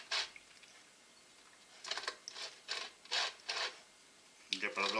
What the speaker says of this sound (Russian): Белочек оставшийся я натираю на мелкой терке.